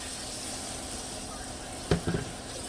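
Garlic sautéing in a pan for a spinach and bacon quiche, a soft steady sizzle with a couple of brief clinks or stirs near the end.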